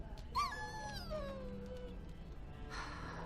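A dog in the Dragon Age Origins video game whines with a rising and falling whimper that fades, faint and alone over quiet game ambience.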